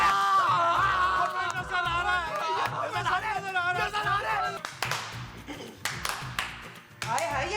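Hands clap in a comedy sketch scene, the sharp claps scattered and mixed with people talking and background chatter, growing more prominent toward the end.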